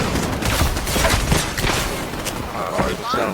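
Rapid gunfire bursts and thuds from the video game HighGuard, dense and loud throughout with shooting sounds layered over one another.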